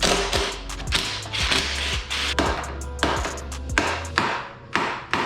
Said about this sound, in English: I'm gonna go ahead and unbolt these clamps and then just remove all of this nonsense